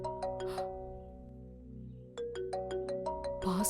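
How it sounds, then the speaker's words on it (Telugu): A phone rings with an incoming call, playing a bright, melodic ringtone close by. Repeating chimed notes run in a steady pattern, pause briefly, then start again. "భాస్కర్ కాల్ చేస్తున్నాడు."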